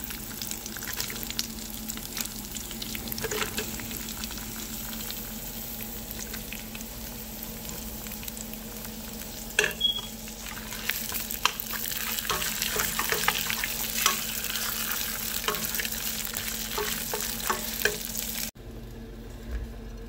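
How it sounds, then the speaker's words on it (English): Chiles and onion fry in a pan for beef barbacoa tacos, a constant close sizzle dotted with crackles and pops, with occasional stirring clicks and a brief drop in level near the end. "So you just want them to kind of fry a little and get that caramelized onions."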